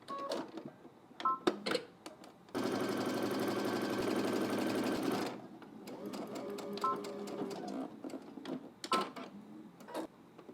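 A sewing machine stitches a skirt seam in a burst of about three seconds of steady whirring, surrounded by quiet clicks and handling noises before and after.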